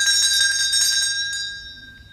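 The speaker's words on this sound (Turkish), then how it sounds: "lütfen şu zili çalar mısın?" A bell rung as a radio theatre sound effect, a bright ringing tone with a shimmering decay that fades over about two seconds, heard alone and close.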